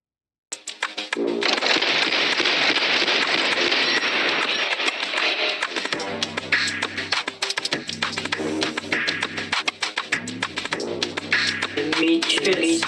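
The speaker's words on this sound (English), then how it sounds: "the whole song is gonna feature bits and pieces of this gunshot" A music track carries chopped gunshot samples: a sharp burst opens it, followed by dense percussive hits and repeated booming low tones running throughout.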